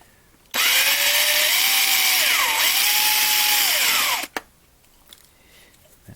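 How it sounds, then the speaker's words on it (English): A DeWalt 36-volt cordless drill bores out rivets on 1/64 NASCAR diecast cars, a loud steady whine about four seconds long with the pitch dipping briefly as the bit bites, then stopping abruptly into quiet. "I'm going to have to drill these out."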